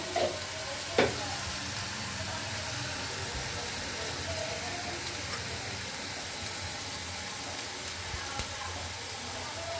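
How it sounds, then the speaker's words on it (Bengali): Sliced onions fry with salt in a pan, a quiet, steady crackling sizzle with an occasional stir or tap against the pan, heard alone without talk. "পেঁয়াজ ভাজতে একটু সময় লাগবে"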